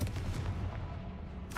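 Booming spell blasts from the Confringo curse in the video game Hogwarts Legacy, a heavy rumbling explosion with dense low thuds, fairly loud and continuous, ending in a brighter burst.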